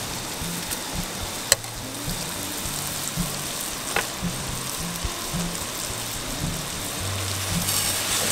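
Butter sizzles and fries steadily in a hot pan while French toast is being made, a continuous crackling hiss with occasional sharper pops and faint low sounds underneath.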